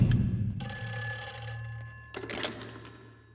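A telephone rings in a Hindi-dubbed South Indian horror comedy film, a bright trilling bell burst that starts abruptly and holds steadily for over a second, then a second clatter of ring follows before fading, with no one talking.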